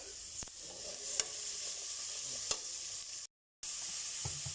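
Tilapia sizzles steadily in hot oil in a home kitchen, a constant close hiss with a few sharp crackles and pops, briefly cut to silence before the frying resumes.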